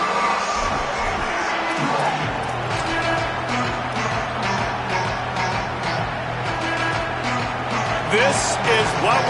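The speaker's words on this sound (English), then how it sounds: "This crowd ready to make its presence known." A football stadium crowd roars at a college game involving the Volunteers, a loud, sustained mass of cheering and shouting, with a commentator talking over it.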